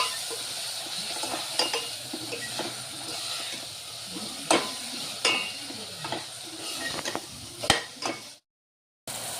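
Sambar masala frying in oil in a pan for a Nagpur-style dal with onion, a steady close sizzle broken by scraping stir clicks, ending in sudden silence.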